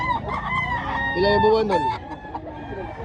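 Roosters at a gamefowl expo in Mantalungon, Barili, Cebu crow and cluck close by, one long crow rising and falling mid-clip among other birds, with people talking over the farmyard clamor.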